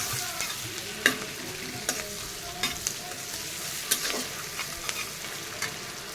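Large prawns sizzle as they fry in a pan for a prawn curry, a steady close hiss broken by sharp scraping clicks of stirring, with no voices.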